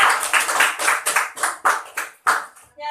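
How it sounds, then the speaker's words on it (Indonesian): A class claps for a student group in a school lesson, a short burst of a few hands with distinct, uneven claps in a loose rhythm, close and fairly loud. "tepuk tangan untuk kelompok 3."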